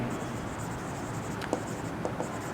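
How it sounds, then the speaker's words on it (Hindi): Faint handwriting during a class 10 physics lesson on light refraction comes through as a few soft, scattered strokes over steady background hiss. "फिगर बी में लिखेंगे"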